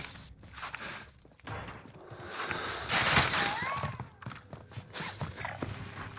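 Sporadic gunfire and clattering movement in a Call of Duty match, with a bright, dense burst of shots near the middle over a busy, mid-distance battle bed.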